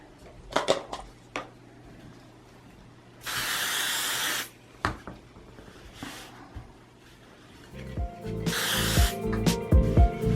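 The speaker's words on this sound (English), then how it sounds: "I'm just going to spray baste it on there" Spray baste adhesive hissing from an aerosol can onto quilting foam in two separate bursts of about a second and a half each, near and loud, with handling clatter and small knocks between them.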